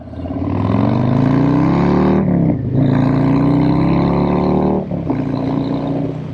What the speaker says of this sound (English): 117 cubic inch Milwaukee 8 engine